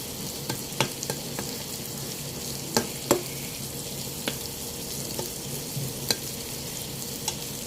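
Shrimp frying with onions in a pan, a steady sizzle with intermittent clinks and scrapes of a spatula stirring, close and continuous with no talk.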